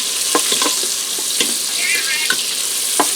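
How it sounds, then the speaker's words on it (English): Butter sizzles with olive oil in an Instant Pot, a loud, steady frying hiss broken by repeated stirring clatters close to the microphone. "also going to throw in about 2 tablespoons of butter. With the olive oil, we'll do is fortify the butter so it doesn't scorch as easily"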